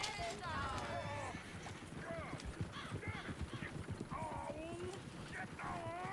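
Horse hooves clip-clop at a steady trot in the Western video game Red Dead Redemption 2. The rhythmic hoofbeats run throughout beneath bright chirping and voices talking over them.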